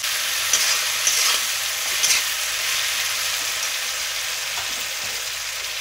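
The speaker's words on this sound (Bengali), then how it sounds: "পেঁয়াজটা ভালো করে ভেজে নেব।" Onions fry in a pan for a spicy meat curry, a loud continuous sizzle with a few scraping stirs of a spoon against the pan, close and steady throughout.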